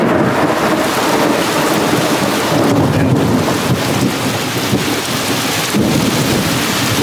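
Thunderstorm heard from inside a car at a junkyard: heavy rain drums loudly and steadily on the roof, with low rumbling thunder rolling underneath, and no talking.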